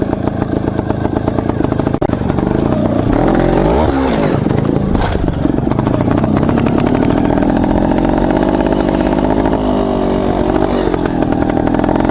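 Trials motorcycle engine revving hard under heavy throttle, a loud, raspy, continuous mid-pitched roar close by with rising and falling pitch sweeps and a sharp knock early on.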